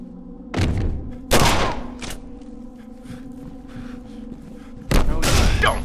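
Shotgun blasts in the video game Condemned: Criminal Origins, three loud booming shots spaced a few seconds apart, each with a heavy decaying tail over a low game hum.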